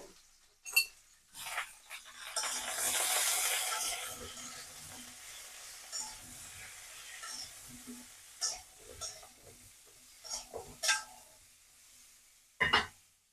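Potato and pointed gourd pieces fry in a pan with salt and turmeric, a quiet sizzle swelling briefly then fading, broken by scattered utensil clinks and scrapes.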